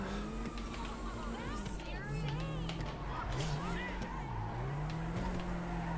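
Car engine in GTA 5 while drifting through a turn with the e-brake, a steady droning motor whose pitch swoops up and down as it revs, with tyre and road noise throughout and someone talking over it.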